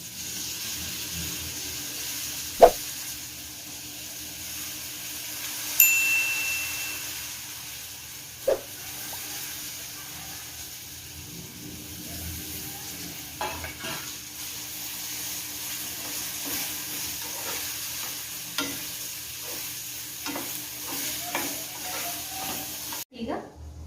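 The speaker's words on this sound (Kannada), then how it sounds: "ಈಗ ನಾನು ಇದಕ್ಕೆ ಬದನೆಕಾಯಿ ಹಾಗೂ ಈರುಳ್ಳಿಯನ್ನು ಹಾಕ್ತಾಯಿದ್ದೀನಿ" Brinjal and onion pieces frying in hot oil for a North Karnataka style brinjal palya, giving a steady soft sizzle and hiss with occasional clinks and stirring knocks of a utensil against the pan.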